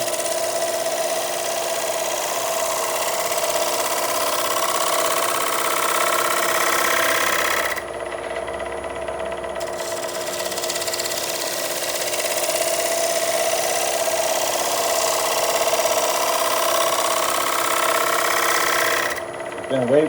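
A wood lathe hums steadily as a gouge cuts a black walnut bowl, with a continuous motor whine and scraping cuts, broken by a brief pause midway, and someone talking over it.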